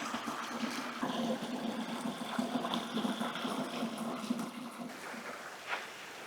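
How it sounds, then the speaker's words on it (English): A forest stream at a water source in an Irish rainforest flows steadily, a continuous rushing and babbling heard close by, with no talking. "I've just found the water source that I've seen on the map."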